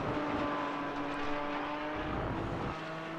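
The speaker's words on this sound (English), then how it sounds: "You can hear the revs spiking slightly there as he kisses the curb on the inside at turn 2" GT4 race car engine in a sim racing game at Catalunya, a steady droning note with a brief rev flicker as it rides over the inside curb, continuous and fairly close without any talk.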